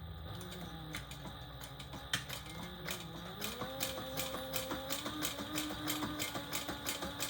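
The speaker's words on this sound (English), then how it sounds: "Now I am going to go ahead and do another row of stitches just on the outside there as well." A machine stitches a row along the outside edge of a small leather wallet, its motor hum rising in pitch as a fast, regular train of needle clicks builds and continues steadily, fairly quiet and close.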